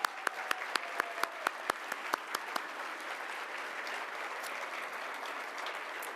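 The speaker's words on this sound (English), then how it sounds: "Let's give a round of applause to all the nominees and the finalists in the room." At an awards show, a room claps for the nominees and finalists: a few sharp individual claps open into moderate, steady applause that carries on at a modest distance.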